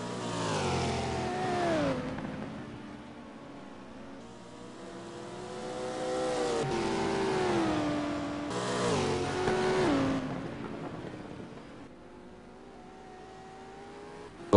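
Race car engines in a racing video game at Zandvoort, revving and shifting pitch as cars accelerate and brake, a steady layered engine drone with rising and falling tones and no talk.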